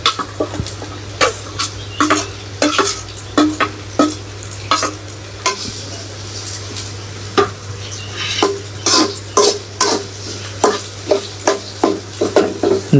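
Onion, garlic and chilli cook in a pan with a low steady sizzle under repeated sharp spoon scrapes and knocks against the metal, a rhythmic stirring pattern heard close and loud with no speech.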